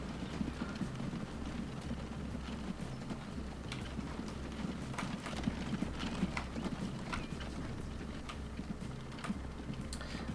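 Horses clip-clop down a road in the Transport Fever 2 video game, a steady patter of many small hoof taps over a low rumbling background hum, fairly faint and continuous with no speech.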